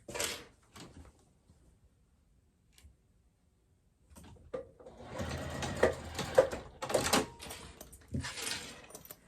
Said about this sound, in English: then we're going to go ahead and top stitch this seam up here